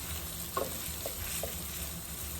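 Curry powder and smoked paprika cooking down in a pan, a low steady sizzle with a few soft stirring scrapes, close and fairly quiet.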